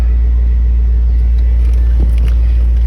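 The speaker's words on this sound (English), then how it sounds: "we're idling here, cold idle, idling very, very smooth" A cold 1998 Jaguar XJR (X308) V8 idles smoothly and steadily up close, giving a constant low rumble with no revving and no talk.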